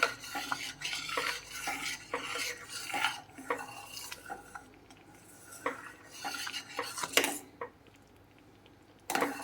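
Wheat rava prasadam cooks in a pot with ghee while a spoon stirs it, making repeated scraping and clinking strokes against the metal. The rhythm is irregular and close, with a faint bubbling hiss beneath.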